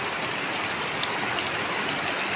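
Floodwater flowing and gathering around a house after heavy rain, a steady close wash of running water with no voices.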